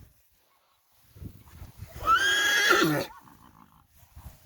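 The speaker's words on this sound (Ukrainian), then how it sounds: "О, кобилки вже приїхали." A draft mare gives one loud, drawn-out whinny lasting about a second, close by, with faint rustling and movement sounds around it in an otherwise quiet outdoor setting.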